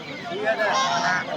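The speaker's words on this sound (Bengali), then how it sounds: "এই দেখেন কত হাঁস" Large domestic geese for sale at a Bangladeshi village livestock market give a short burst of nasal honking close by, mixed with market voices.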